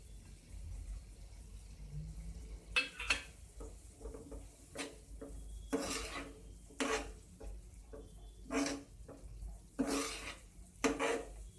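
Sprouted moong sabji with fresh coriander being stirred in a pan, a spoon scraping and clinking against the metal in irregular strokes, close and fairly quiet, with a faint low cooking hum underneath and no voices.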